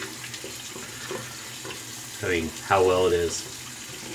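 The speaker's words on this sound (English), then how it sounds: "Get the brush rinsing." A shaving brush is rinsed under a running tap, a steady splashing stream of water with someone talking over it.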